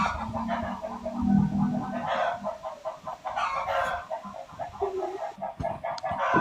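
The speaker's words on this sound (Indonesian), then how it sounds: "Ada ayam." Several chickens clucking and squawking in short, repeated bursts, fairly close and lively, with one bird's call rising above the others near the start and no talk over them.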